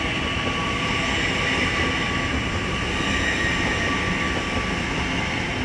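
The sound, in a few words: LNER Azuma train departing Hitchin on the East Coast Main Line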